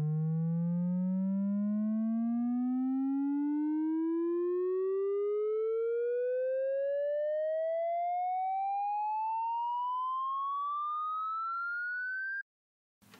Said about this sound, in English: I have a sub riser.